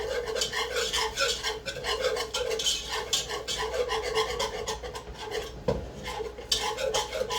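Flour and olive oil are stirred together in a pot, a continuous close scraping and rasping of a utensil against the pot, steady and rhythmic throughout with a brief clank near the end.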